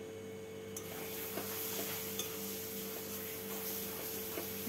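Mango chutney is stirred with sugar in a pan, a soft continuous scraping with faint sizzling and a few light taps over a steady hum, close and moderate in level, with no voices.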